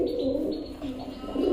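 Shirazi pigeons coo in a breeding loft in Suri, Birbhum, with soft, low, repeated throaty calls close by and faint chirps mixed in, and no talk.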